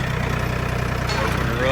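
The engine of a Mahindra 1635 tractor fitted with a loader idles nearby, producing a steady, rumbling low hum with a faint regular pulse throughout.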